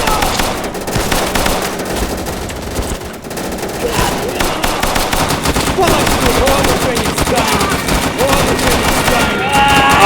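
Dense gunfire fills a video game battle at a Volga River crossing, with rapid machine-gun bursts and scattered single shots crackling close and loud, while voices call out over the din.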